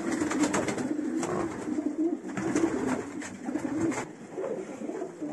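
Pigeons coo steadily in a loft, several birds overlapping in a soft, continuous murmur of throaty calls close by, with no talking.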